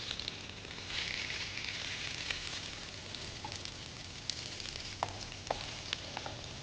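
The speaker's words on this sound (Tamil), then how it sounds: "இது மாதிரி நல்ல கலர் வர வரைக்கும் ஷாலோ ஃப்ரைங்கில் குக் பண்ணி எடுக்கணும்" Fish coated with coriander masala shallow-frying in oil, a soft continuous sizzle with scattered small pops and crackles, fairly quiet and close.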